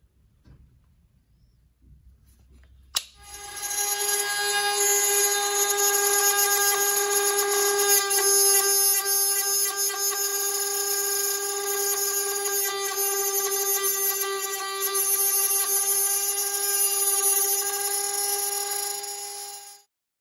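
Router cutting out a wood panel for a hot rod soapbox, a loud sustained high-pitched whine that starts abruptly after a short quiet lead-in and runs steadily until cutting off at the end.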